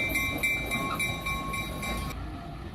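A short train passes, pulled by a single General Electric locomotive with one caboose, its steady rumble and faint high-pitched wheel squeal carrying for a few seconds before fading.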